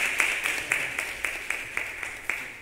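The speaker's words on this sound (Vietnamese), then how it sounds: "Đó, chân tràng pháo tay." An audience at a Buddhist Zen teaching event applauds, a thin, steady patter of rhythmic clapping with sharp regular claps, moderately close and without speech.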